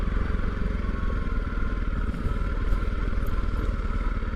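A motorcycle engine runs steadily while riding off-road down a rough lane, a close, continuous mid-pitched drone with faint rattling.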